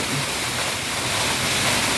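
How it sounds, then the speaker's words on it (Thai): An artificial fountain in a city park butterfly garden gives a steady, close, fairly loud rush of splashing water that runs without pause and carries no voices. "ก็จะมีน้ำพุนะทุกคน"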